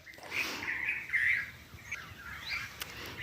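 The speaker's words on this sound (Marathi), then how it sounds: "आमच्या कोकिळचा आवाज सुरेल आवाजात सगळ्यांना उठवत आहे" An Asian koel sings melodious, rising calls, fairly distant, with faint chirps and light patter in a quiet, misty morning outdoor setting.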